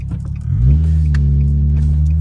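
A Nissan 350Z fitted with an off-road lift kit rumbles close by, its engine note rising briefly as it pulls away, then holding a steady low drone.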